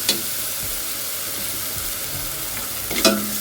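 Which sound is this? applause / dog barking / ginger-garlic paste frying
ginger-garlic paste frying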